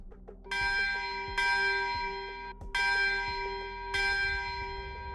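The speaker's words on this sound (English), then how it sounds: "So you hear 6 bells." A church bell tolls at 6 p.m., four strong, evenly spaced strikes ringing out with long, rich overtones that hang and overlap between blows, no voices present.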